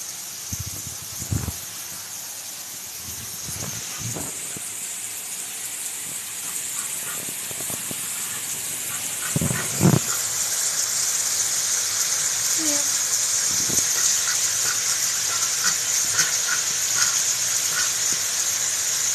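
Water runs in a steady broadband hiss as pets play in it, with a few soft splashes and knocks early on and a voice speaking briefly over the flow.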